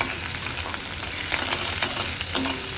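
Green chilies and onion frying in a pan give off a steady, dense sizzle that holds for the whole stretch, with faint scrapes of stirring now and then and no voices.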